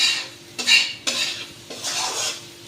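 Spice powder and rock salt being stirred and roasted in a pan for sabudana khichdi, bright metallic scraping strokes of a spoon against the pan in bursts over a faint dry sizzle, close and fairly loud, no talking.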